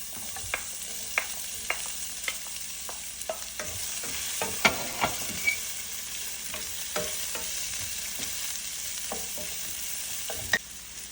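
Onion sautéing in a pan over medium heat for a vegan Indian-style okra stew: a continuous bright sizzle punctuated by frequent sharp clicks of a spatula stirring against the pan, close and steady, without speech.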